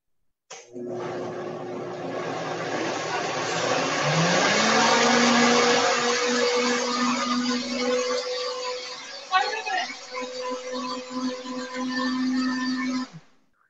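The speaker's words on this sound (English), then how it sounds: "just give them a little whir here in my blender" A kitchen blender whirs beans with garlic powder, onion powder and spices, a loud steady motor roar that shifts pitch as it runs, with a brief clatter partway through before the whir continues and cuts off.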